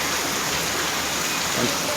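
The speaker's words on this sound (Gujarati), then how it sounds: "આ સાઈડ જોવો કેટલો બધો વરસાદ ચાલુ છે" Heavy monsoon rain pours down in Ahmedabad, a dense, loud, unbroken roar of water filling the whole short stretch.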